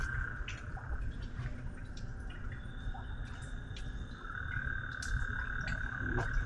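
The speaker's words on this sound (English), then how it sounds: "Oh, that's a live frog." A live frog croaks in a Dallas sewer-line area among insects, its pulsing calls fairly faint and steady beside a continuous high trill of crickets, with a few sharp clicks and a low outdoor hum beneath; no one speaks.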